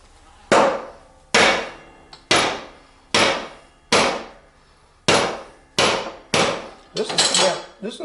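A hammer taps a spindle into a zero turn mower deck with about eight firm, evenly spaced metallic strikes. Each hit rings out and fades before the next, close up and loud, with the last few blows coming quicker.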